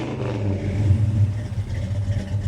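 A 1972 Chevrolet Monte Carlo with its numbers-matching 350 V8 and dual exhaust rumbles steadily at a deep, even idle, a close and loud low burble with a faint mechanical clatter.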